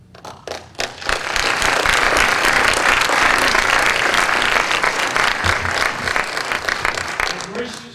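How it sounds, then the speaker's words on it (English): A banquet audience bursts into applause after a few scattered claps, building to dense, steady clapping from a large crowd that carries on loudly before tapering slightly at the end. "I graciously accept those applause"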